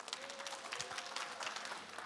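An audience claps steadily at a televised education concert in Ulsan. The applause is dense and even but faint and distant, sustained for about two seconds.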